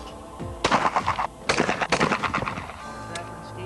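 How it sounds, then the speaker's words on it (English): Gunshots at a gun club in a video game: a rapid run of sharp, fairly loud reports in bursts with brief pauses, followed by a quieter tail. "I decided to take out my frustration on Luke at the gun club"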